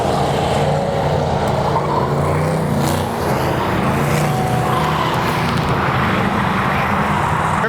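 Race cars, including four-wheel-drive trucks, lapping at the LeMullets endurance race, a dense, loud mix of engines revving and passing with occasional tire squeal, continuous throughout.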